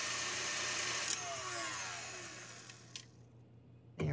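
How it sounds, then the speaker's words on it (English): Egg whites whipped with a pinch of salt and sugar to soft peaks, an electric mixer whirring steadily and fairly close, fading slightly over a few seconds with a couple of brief clicks or knocks. "First I'll whip the egg whites with a pinch of salt."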